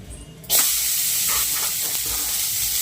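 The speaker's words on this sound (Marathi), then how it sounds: "चला तर आपण कोबीज भाजून घेऊया" A sudden loud hiss erupts as cabbage hits a hot pan, then settles into a steady, close sizzle that continues without talk.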